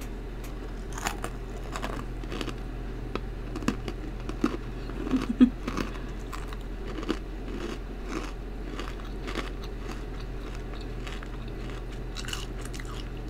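Freeze-dried chocolate astronaut ice cream crunched between the teeth, giving a series of dry, brittle bites and crackles that come close and fairly quiet, scattered irregularly with no talking.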